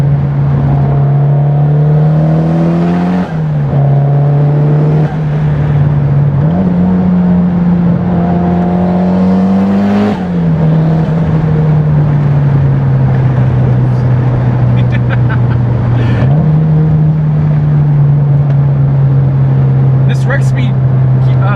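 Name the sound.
Mitsubishi Lancer Evolution X GSR car engine revving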